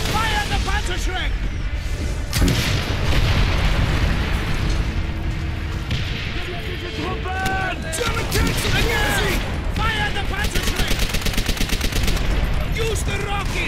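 Panzerschreck rocket launcher fire and a chaotic battlefield in Call of Duty: World at War, booming blasts and explosions amid steady gunfire, with soldiers shouting throughout.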